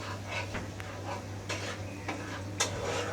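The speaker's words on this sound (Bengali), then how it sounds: "এভাবে 5 মিনিট নাড়তে থাকুন।" Spices and ginger-garlic paste stirred in a pan for a chicken and mung dal curry, with a spoon scraping in uneven strokes over a steady low hum, plus a few sharp clinks of utensil on metal.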